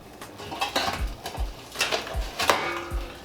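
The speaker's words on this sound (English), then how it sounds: "you just want to go in here and smash this baby up, crumble it up." Cornbread being crumbled and mashed in a pan for turkey dressing, a series of close clanks, scrapes and knocks of a utensil against the pan at an uneven rhythm, without talking.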